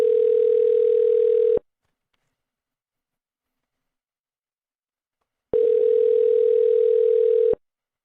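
A telephone line sounds a steady tone while a number is dialled. The tone plays for about a second and a half, stops for roughly four seconds of silence, then repeats for another two seconds. It is clear and close, with no talking.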